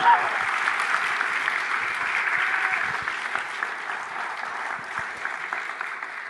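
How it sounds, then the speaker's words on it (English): A large conference audience gives a sustained round of applause at a fireside chat, a dense steady wash of clapping that holds evenly throughout. "can we just give Jack a huge round of applause"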